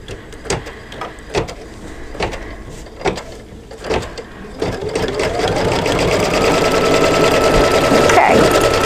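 An embroidery sewing machine stitches the last color stop of a mug rug: first a series of spaced, separate needle thumps, then a loud, fast, continuous whirring hum.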